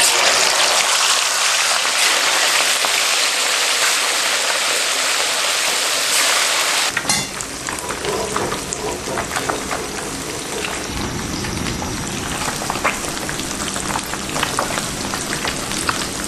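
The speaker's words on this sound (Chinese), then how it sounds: "油温大概5-6分热，把鲫鱼片下锅炸。" Crucian carp slices deep-frying in plenty of hot oil, a steady broadband sizzle and crackle that swells louder and denser partway through as the fish goes in, continuous with no talking.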